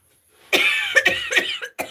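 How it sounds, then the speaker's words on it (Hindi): A person coughs in a sharp burst of several harsh, close coughs in quick succession, followed after a short pause by one more cough, with no talking over it. "खांसी बहुत तेज आती है बेटा।"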